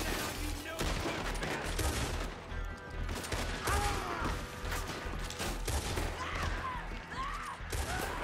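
Dense, repeated gunfire in a Red Dead Redemption 2 shootout, with many sharp shots and crackling bursts layered over continuous background noise and occasional faint tonal sounds.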